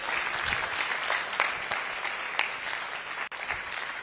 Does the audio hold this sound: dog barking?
no